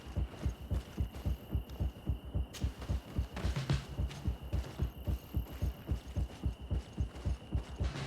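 Music in the video game Greedfall pulses like a heartbeat, steady low double thumps repeating evenly under a faint sustained hum.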